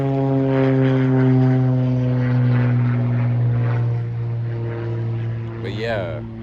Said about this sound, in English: wait for that airplane to pass over.